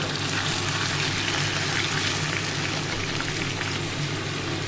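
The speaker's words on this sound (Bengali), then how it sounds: "আমি আলু আর পেঁয়াজ একসঙ্গে দিয়ে দিলাম, আর সাথে চিংড়ি মাছ।" Potato, onion and shrimp fry together in oil tempered with whole spices for a prawn curry, producing a dense, loud, even sizzle throughout, heard up close with no speech.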